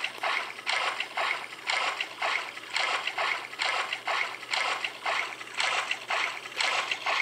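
A character swims through water in the video game Thrive Island, with rhythmic splashing strokes repeating about every second, close and fairly even.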